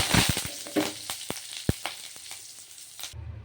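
Close oil sizzle with sharp crackles and pops as cumin, crushed garlic, dried red chillies and curry leaves hit hot oil for tempering, busy at first and then thinning before stopping abruptly.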